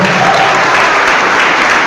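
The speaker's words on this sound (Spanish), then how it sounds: "Aplauso fuerte, que se oiga, aplauso," A congregation gives a loud, sustained round of applause at a church gathering, the clapping thick and steady from start to finish.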